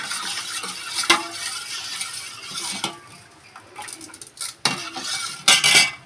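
A ladle stirs a soaked mixture of lentils and rice with rock salt in a metal vessel, giving scraping, clinking strokes at close range, with a few louder knocks and rattles toward the end.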